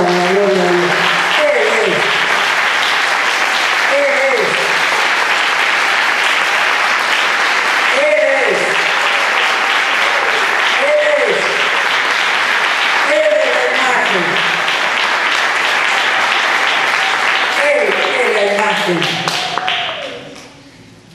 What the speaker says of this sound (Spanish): Den un aplauso al Señor por la gloria de Dios.